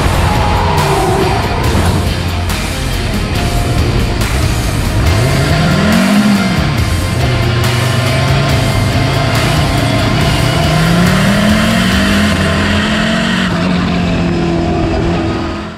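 Race cars in a Lamera Cup race at the Nogaro circuit roar past continuously, loud and near, engines revving up and down with shifting pitch throughout, no voices.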